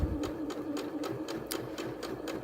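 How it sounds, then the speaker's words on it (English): Janome sewing machine running a long gathering stitch at high tension, a steady fast mechanical whir with regular needle clicks, close and continuous. "high tension and long stitch length at the top here, and then just start sewing"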